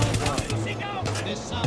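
Machine gun fire in the shooter game Far Cry 6, with rapid, evenly spaced bursts cracking loudly in the foreground. Steady in-game action and background noise run underneath, and a voice talks over part of it.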